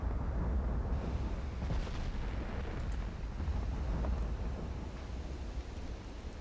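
Heavy naval gunfire from warships firing high-explosive shells in Ultimate Admiral Dreadnoughts, a dense continuous rumble of booming salvos rolling together at steady loudness with no distinct pauses.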